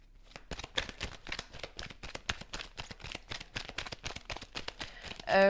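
Tarot cards riffled and shuffled in a steady run of rapid, crisp flicks, fairly close and alone, ending with a brief louder thump.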